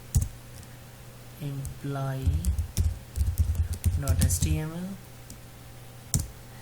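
Computer keyboard keys typed in a quick run of clicks while entering a file name, close and clear, mixed with someone talking over the typing.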